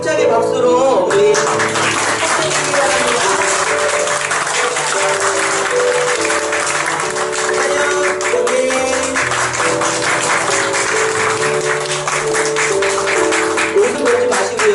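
Church congregation applauding steadily during a flower presentation at an Easter Sunday service, sustained full clapping from a crowd with music underneath, no speech.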